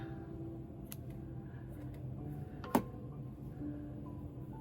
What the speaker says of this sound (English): I don't think my scissors like cutting this stuff.